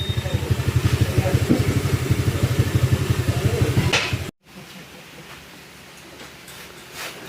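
A Honda ADV160 scooter with a clattering engine noise runs at idle, a rapid even ticking pulse close up for about four seconds before cutting to quiet background, with voices faintly present.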